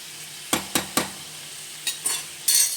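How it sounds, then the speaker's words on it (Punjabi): A capsicum, onion and tomato masala fries softly in a pan while a spoon scrapes through it in sharp strokes: three quick ones, a pause, then a few more over the quiet sizzle. "ਸ਼ਿਮਲਾ ਮਿਰਚ ਪਿਆਜ਼ ਟਮਾਟਰ ਦਾ ਮਸਾਲਾ ਬਣਾ ਰਹੇ"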